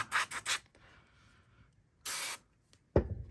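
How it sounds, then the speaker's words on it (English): Short hissing bursts of silicone aerosol spray on a Hi-Capa gas blowback pistol, three quick puffs then a longer one, close by with quiet gaps and a knock at the end. "I would then use a little bit of a silicone spray"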